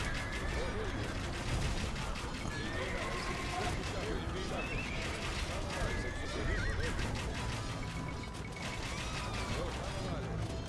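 Horses of horse archers in the video game Age of Empires 2 neigh and whinny amid a dense battle din of hooves, clashing mechanisms and gunfire, layered under continuous speech.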